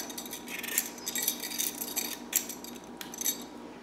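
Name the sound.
vegetable peeler peeling the green rind off watermelon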